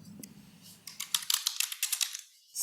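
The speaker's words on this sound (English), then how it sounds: "now we type Python" Quick clicks of a computer keyboard as someone types a command into a command prompt, a burst of close, crisp keystrokes following a short murmur of voice.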